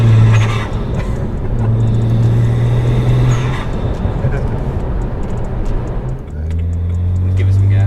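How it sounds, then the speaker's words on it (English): A BMW 335i with the N54 twin-turbo engine and a sound tube fitted revs under acceleration, a loud rising engine rumble heard from inside the car, with turbo spool building after a brief dip, while people talk over it. "Give it some gas here. Now that's what turbo power does."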